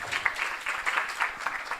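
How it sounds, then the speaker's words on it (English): Scattered clapping from a modest forum audience at the Eswatini Urban Forum, uneven and pulsing, fairly close and moderately loud, with no voices heard over it. "A big round of applause."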